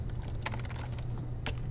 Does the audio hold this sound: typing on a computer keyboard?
yes